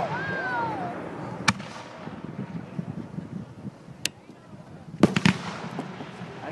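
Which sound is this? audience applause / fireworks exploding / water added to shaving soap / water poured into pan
fireworks exploding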